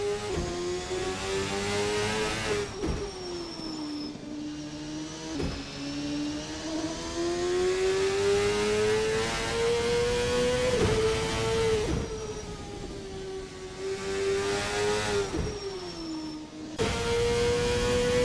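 A continuous high-pitched CART racing car engine roar at Mid-Ohio in a racing video game, pitch rising and dropping with gear shifts and sharp cuts, loud and close with no talking.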